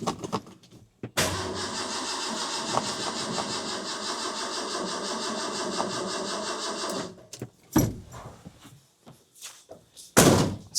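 A rebuilt 300 inline six engine cranks slowly without firing, a steady droning starter whir lasting about six seconds, then stops, followed by a few clunks and knocks.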